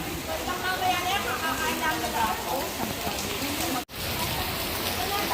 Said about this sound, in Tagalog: So malakas yung ulan